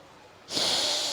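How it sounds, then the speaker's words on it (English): A single sharp, forceful nasal exhale of Bhastrika pranayama breathing bursts in after a brief quiet moment, close and hissing, and holds strongly to the end without any voice. "Breathing in fully through your nose. Expanding the chest, expanding the abdomen. Exhaling everything out."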